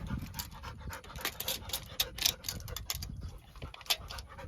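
A dog pants rapidly and steadily at close range, with quick rhythmic breaths over faint background noise, during work on lifting a 3rd-generation Toyota 4Runner.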